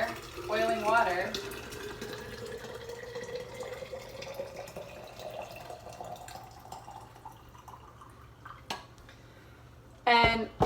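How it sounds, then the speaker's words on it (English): Boiling water pours into an insulated quart thermos holding a tea ball, a steady gurgling stream whose pitch climbs as the flask fills, followed by sharp clinks of the lid near the end, with a voice heard at times. "And you put the tea ball in there, and then you fill it up with hot water, boiling water."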